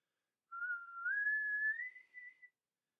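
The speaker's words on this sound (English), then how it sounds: "that was a pretty good whistle for me" Person whistling alone, a clear single tone gliding slowly upward in pitch for about two seconds with a short final flutter, quiet and isolated against silence.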